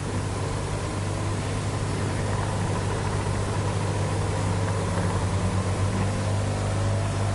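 A large gyroscope wheel being spun up gives a loud, steady mechanical hum with a deep constant low drone and broad whirring noise, holding level and unbroken throughout.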